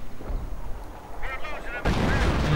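Artillery fire in a Company of Heroes real-time strategy game, rumbling low booms and a loud blast near the end, with a voice talking over the battle.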